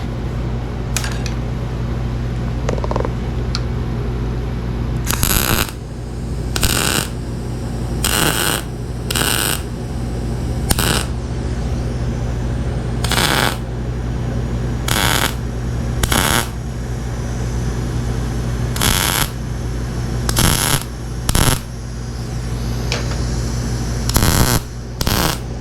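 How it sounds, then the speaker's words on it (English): Budget MIG welder laying a series of short tack welds on a rust repair panel, each a brief loud crackling burst, about a dozen spaced irregularly over a steady low electrical hum. "do a couple little zip zappies on there"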